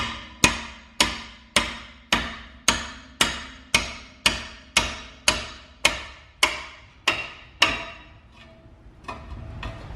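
A car brake caliper being hammered free during a parts strip of a Nissan R31 wagon: about fifteen sharp, evenly spaced metallic strikes in a steady rhythm, close and loud, then a few quieter taps as it stops.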